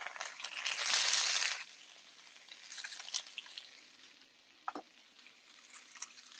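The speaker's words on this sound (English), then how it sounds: "Here's the kale and the mustard greens. I'm just throwing them in by the handfuls." Handfuls of kale and mustard greens hit a large, hot sauté pan with a brief rush of sizzle, which fades to soft, scattered crackles and small clicks, heard close and fairly quiet.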